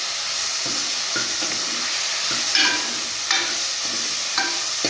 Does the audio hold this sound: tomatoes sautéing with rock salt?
yes